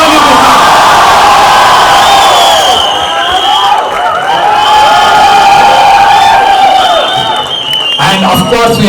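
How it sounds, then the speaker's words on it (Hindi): A large audience at a film promotion event cheers, whoops and applauds loudly to welcome a guest on stage. The dense roar of crowd noise with shrill shouts runs throughout, and a voice calls out over it. "With a huge round of applause, please welcome the one and only Nawazuddin Siddiqui"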